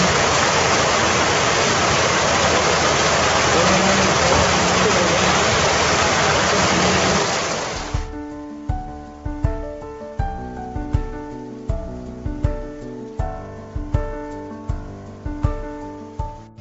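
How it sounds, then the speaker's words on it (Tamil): Floodwater surging through rivers and farm fields after heavy rain, a loud, dense rushing roar for about eight seconds that then gives way to quieter, rhythmic knocking sounds. "மழை காரணமாக வயல்வெளிகள் மற்றும் ஆறுகளில் வெள்ளம் பெருக்கெடுத்து ஓடியது"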